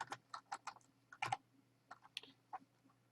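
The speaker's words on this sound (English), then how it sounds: "Apparently my typing isn't working very well today." Computer keyboard typing during a 4Nec2 antenna modelling session: a loose run of close, sharp key clicks in irregular bursts, one denser cluster midway, with no talk.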